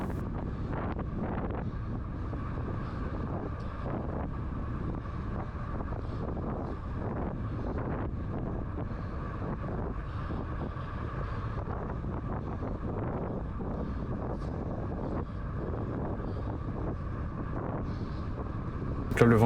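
A strong headwind buffets the microphone of a cyclist riding a time trial in Bonifacio, Corsica, producing continuous low rumbling gusts with occasional sharper thumps.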